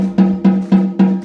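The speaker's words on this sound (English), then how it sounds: "Now if I loosen up the snares so they're off, it sounds like this instead. It sounds like a normal drum." A band snare drum struck with its snares loosened off gives four evenly spaced, close, dry tom-like thuds with no rattle, heard alone.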